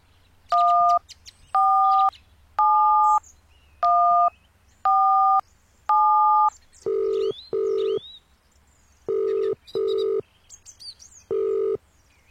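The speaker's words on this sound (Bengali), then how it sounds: "নীল থানায় ফোন করল।" A phone number is dialed to a police station with a rapid series of about eleven evenly spaced electronic keypad tones, clear and close, with no talking.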